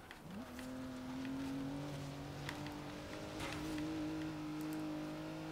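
A steady car engine hum from Forza Horizon 3, smooth and mild rather than a screaming supercar note, holding an even pitch after a brief rise at the start as the car cruises along.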